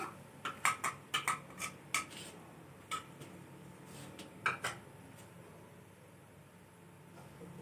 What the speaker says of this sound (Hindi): अच्छी तरह मिक्स कर देंगे इसको भी।